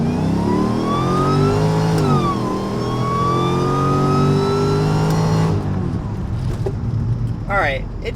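Mercedes E55 on Mickey Thompson drag radials launching hard from a dig, engine roaring loud and rising through the revs with a gear change, then dropping off with faint tire noise and brief chatter.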